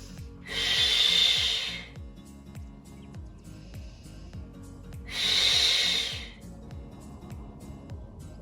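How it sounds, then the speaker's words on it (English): Two slow, deep breaths taken during a leg stretch, each a soft, airy rush lasting over a second, near and clear over a faint, steady rhythmic background. "One more deep breath here."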